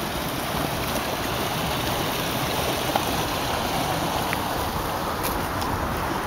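Water from a waterfall in a Japanese garden rushes in a constant, fairly loud hiss and splash, with no voices over it.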